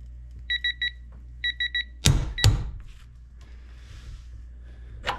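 A digital torque adapter gives two short bursts of triple electronic beeps as a torque wrench on a calibration setup nears its 100 foot-pound target, then two loud sharp metallic clunks as the fastener breaks loose, and quiet handling noise follows.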